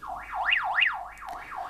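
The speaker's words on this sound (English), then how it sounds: "That's the alarm coming from the radio over there." A Baofeng UV-5R handheld radio sounds its alert alarm through its speaker, a siren-like tone sweeping up and down repeatedly, steady and moderately loud with no talking.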